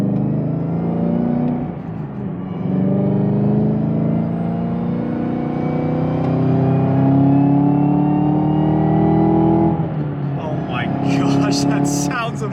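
A Chevrolet Camaro ZL1 on 305-width rear tires pulls hard on the highway, its engine note rising steadily through the gears as a deep, loud rumble from inside the cabin, with a brief beep near the end.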